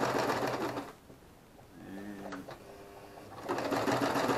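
Sewing machine stitching hammock fabric, back-stitching to lock the seam: steady mechanical whirring at the start, a pause with quieter clicks and handling, then the motor runs up again loudly near the end.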